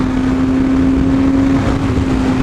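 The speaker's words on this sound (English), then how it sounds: "let's do full throttle. This is full throttle" A Yamaha R6 motorcycle engine held at full throttle, giving a loud, steady, close drone with a constant tone and no break, with no talking.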